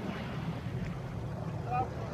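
Low, steady engine drone of a large professional motor boat on waves, heard faintly under wind and water noise, with a voice speaking briefly.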